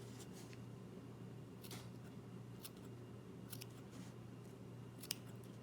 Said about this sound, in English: Make sure you don't get too close to your threads, you're just lightly snipping it.